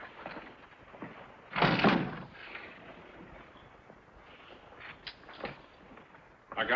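A door opening or swinging shut as someone walks out, in a 1948 film noir scene: one fairly loud dull burst partway through, then quieter rustles and a soft knock over faint room noise.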